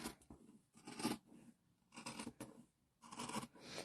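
Scissors trim fabric being sewn into a pocket, giving four crisp, close snipping cuts in a steady rhythm with short pauses between them.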